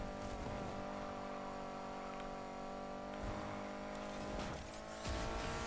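A tuned car in the video game Need for Speed Heat drives with a steady, loud engine drone and road roar throughout, rising a little in brief swells.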